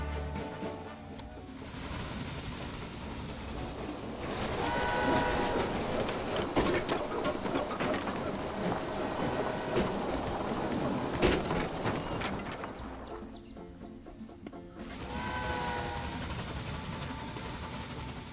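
A freight train runs in the Railway Empire video game, a steady rolling rumble with faint clickety-clack and brief squeals throughout, dipping once and swelling again.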